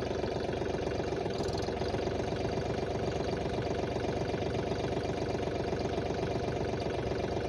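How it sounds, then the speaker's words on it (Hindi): A Mahindra Oja 2127 27 HP tractor engine runs steadily up close, a constant loud diesel chugging with an even rhythmic knock and no pauses. "दोस्तों ये मैंने चालू कर दिया ट्रैक्टर"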